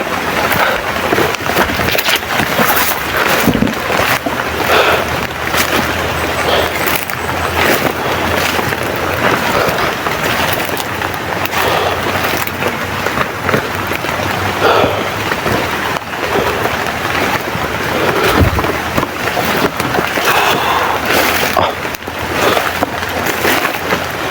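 Steady rain and wind roar fill the whole stretch, a dense continuous hiss with occasional gusts buffeting the microphone.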